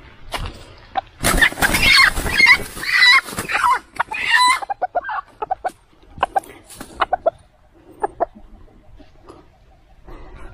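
A red junglefowl (labuyo) rooster gives a loud, close crow early on, followed by scattered short clucks and softer calls that trail off intermittently.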